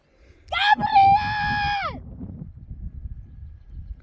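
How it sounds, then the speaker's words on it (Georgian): A man lets out a loud, drawn-out shout that carries for about a second and a half, then fades into low background rumble and quiet. "აქეთ დაიყვირე"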